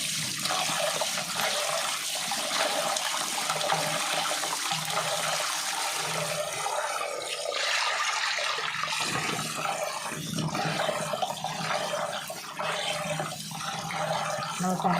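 Ration rice for idli is washed in water until the water runs white, giving continuous sloshing, swirling and running-water sounds close by with no talking.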